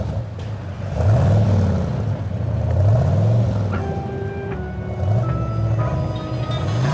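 A car pulls up with its engine revving in repeated surges, loud and close, with a low rumble running underneath and a few brief tonal sounds near the end.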